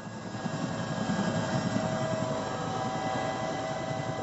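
A helicopter flies over a remote research area, its rotor a steady, even throbbing drone at moderate distance, with no other sounds.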